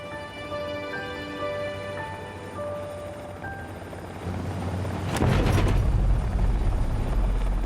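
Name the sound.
helicopter flying over mountains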